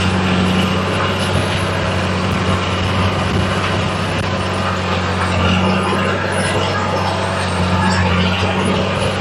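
A tractor engine drones steadily up close with a constant low hum and mechanical whine, never easing off.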